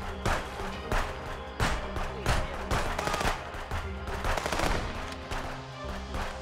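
Rapid gunfire from a shooter video game, loud bursts of automatic fire and single shots cracking in an uneven rhythm throughout, with heavy thumps among them.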